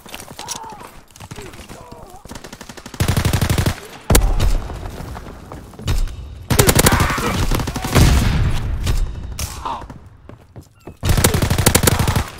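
Bursts of rapid gunfire in a World War II video game erupt repeatedly, loud and close, alternating with stretches of excited talking between the volleys.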